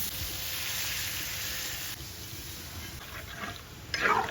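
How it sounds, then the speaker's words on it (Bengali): Water poured into a frying potato and cauliflower curry in a kadai, a soft sizzle and hiss that changes as the liquid goes in, with a louder splash near the end. "এখন জল দিয়ে দেবো পরিমাণ মতো।"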